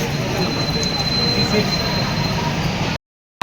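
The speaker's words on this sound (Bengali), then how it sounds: "আমাদের ট্রেন ছেড়ে দিল কলকাতা স্টেশন থেকে" Steady rumble of a moving night train leaving Kolkata station on a rainy night, with a faint high metallic whine, loud and continuous, cutting briefly to silence near the end.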